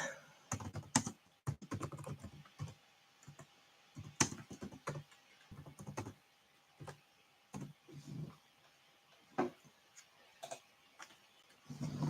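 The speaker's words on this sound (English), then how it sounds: "Had to type on my laptop keyboard." Typing on a laptop keyboard, a quiet indoor run of uneven key clicks in short bursts with brief pauses, close to the mic, and no talking.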